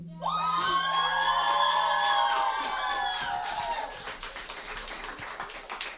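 An audience at the closing concert of the Võrtsjärve region youth music camp bursts into loud applause, with high shouts and cheers from children rising over the clapping before it slowly fades.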